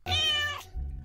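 A single loud, clear cat meow from Minecraft, bright and drawn out for just over half a second, then fading into a low background murmur.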